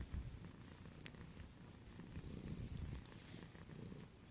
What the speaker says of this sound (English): All this purring.